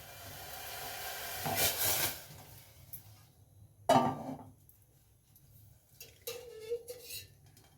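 A metal tempering pan is set down for tomato rasam, giving a sharp clank near the middle amid softer kitchen clatter of pots and utensils, with a brief faint scrape afterward.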